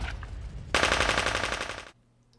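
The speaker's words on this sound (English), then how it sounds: "followed by a cacophony of rifles and automatic weapons" Audiobook sound effect of rifles and automatic weapons firing: a rapid burst of machine-gun fire, dense and rattling, erupting after a low rumble, loud and close, fading out before an abrupt cutoff.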